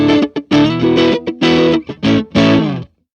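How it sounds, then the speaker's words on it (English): An electric guitar played through an overdrive pedal gives a series of gritty, sustained distorted notes and chords in uneven phrases, loud and close, ending in silence. "So yeah, it's got some of that drive."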